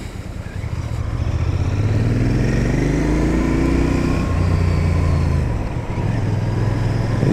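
A 2025 Royal Enfield Bear 650 motorcycle's engine runs loud and close, holding a steady drone with smooth rising and falling revs as it rides along, with no talk over it.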